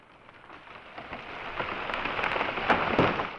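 A noisy riser effect, made by layering a track with copies slowed to half and quarter speed, swells steadily in loudness over a few seconds with crackling, rain-like texture before cutting off, heard alone.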